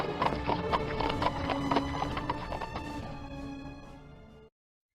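Horse hooves clip-clopping as a sound effect, a steady rhythmic trotting patter with a whinny mixed in, loud and continuous under accompanying music before cutting off abruptly.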